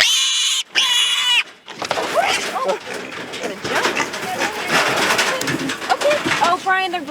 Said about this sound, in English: Hey, there's an oink.